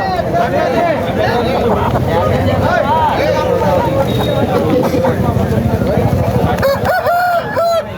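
At a country chicken market in Mamidada, roosters crow repeatedly, loud and close, with hens clucking amid constant bargaining chatter from the crowd.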